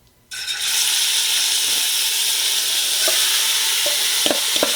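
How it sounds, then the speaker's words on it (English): Beef hits a hot pot and instantly erupts into a loud, steady sizzle that holds for several seconds, with a few faint clicks of stirring underneath. "dump my meat in"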